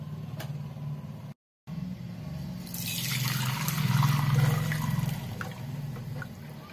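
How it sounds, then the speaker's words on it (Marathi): Water is drained off cooked chana dal, a close gurgling pour that swells in the middle and tapers, preceded by faint clinks and a brief gap. "हे पाणी काढून घेते मी।"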